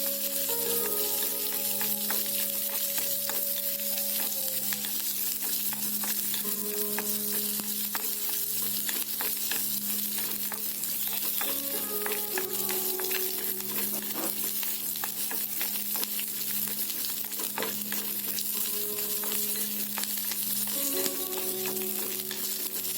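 Garlic, green chili and cumin seeds fry steadily in oil in a pan, a continuous close sizzle with repeated scraping stirs of a utensil throughout, and no talking.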